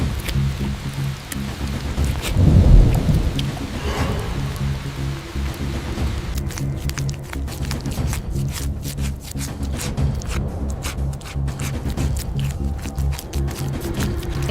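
Rain falls steadily through a thunderstorm with thunder rolling overhead, a dense, continuous patter that swells with a deep rumble early on and then keeps up evenly.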